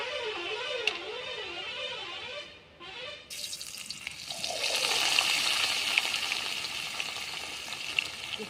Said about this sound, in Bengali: এখন আমি তেলের মধ্যে মাছটা ছেড়ে দেব।